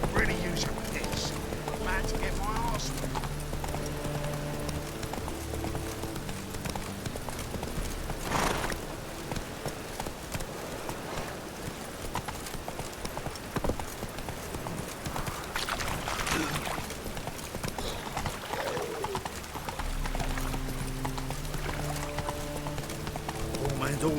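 Roach, a horse in The Witcher 3, gallops with a continuous rhythmic clip-clop of hooves running through the whole stretch, joined by game ambience and someone talking over it.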